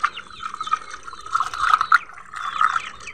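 Shark fish pieces being washed in water make close splashing and sloshing with uneven bursts of trickling and light scraping as the pieces are rubbed clean by hand.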